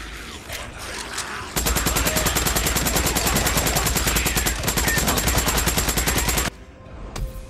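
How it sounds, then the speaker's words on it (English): Rapid automatic gunfire in the game Days Gone, a dense, loud, continuous burst of shots lasting about five seconds, followed by a few fainter scattered sounds. "Just going to finish them off now with gunplay."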